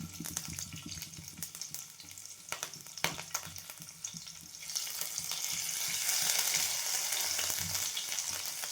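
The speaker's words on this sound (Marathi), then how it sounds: "कढई ठेवली. तेल टाकलेलं आहे. राई जिऱ्याची फोडणी द्यायची." Mustard and cumin seeds tempering in hot oil in a kadhai with green chillies, a steady close sizzle with scattered crackling pops that swells louder and hissier in the second half, no voices.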